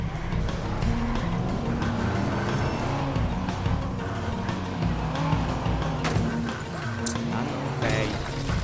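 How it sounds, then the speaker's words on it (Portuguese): Car chase and crash in the Watch Dogs video game, with engine roar and tire squeals running steadily throughout, loud and close, under excited talk from a player. "Bate no carro dele, anda!"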